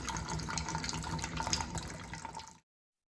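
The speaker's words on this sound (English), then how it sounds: "So here I am filling it up with more water so it can continue filtering" Water pours steadily into a Berkey water filter, a close continuous splashing fill that stops abruptly near the end.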